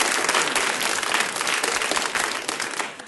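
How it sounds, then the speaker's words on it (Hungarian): A theatre audience at a Hungarian comedy stage show bursts into dense, sustained applause, loud and close, holding steady for about three seconds before easing slightly at the end. "Taps bejött, jó van."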